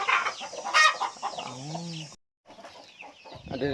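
A brooding hen disturbed from her eggs clucks and squawks close by, with a few drawn-out, wavering calls, a brief pause, then more agitated clucking.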